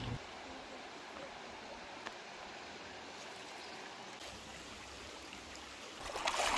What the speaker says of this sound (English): you'll have to pass multiple river streams to get to the camps